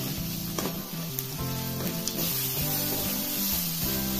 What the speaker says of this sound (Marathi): थोडासा कांदा लाल होईपर्यंत परतायचा।